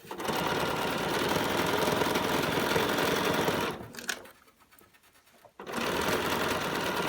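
Sewing machine stay stitching denim a quarter inch from the edge for blue jeans front pockets: a loud, steady, close motor whir that stops briefly partway through, then resumes.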